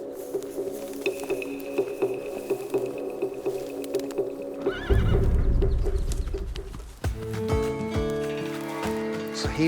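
A young horse returning to its pen whinnies with a drawn-out tonal neigh, then a burst of heavy movement and snorting breath close by, followed by another sharp, wavering whinny.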